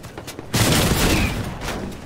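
A sudden heavy burst of gunfire in Fortnite, steady rapid shots that carry on for over a second and a half before easing, moderately loud with no talk.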